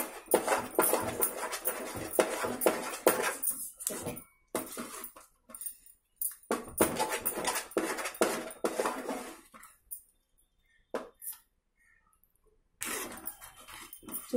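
Sweet chandrakantulu mixture cooking in a pan on a low flame, stirred with a utensil that scrapes and clinks against the metal in irregular bursts, separated by short quiet gaps.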